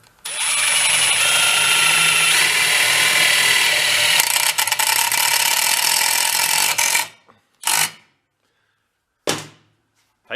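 A power drill drives a big self-tapping screw into a junked Simplicity 1250 snow blower, a loud steady whir for about seven seconds, then two short bursts of the drill with silence between.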